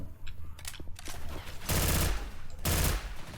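Automatic gunfire in the zombie shooter Left 4 Dead 2, with two sustained loud bursts of rapid machine-gun fire following scattered shorter shots and game noise.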